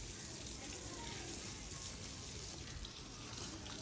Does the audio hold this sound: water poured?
yes